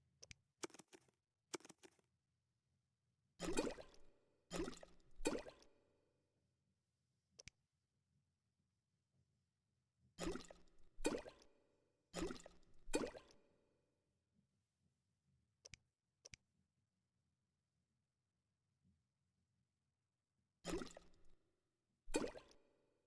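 Mixing potion ingredients in The Witcher 1 produces scattered short clicks and plops that come in bursts and clusters, some single and some in quick runs, separated by quiet gaps, with no voices present.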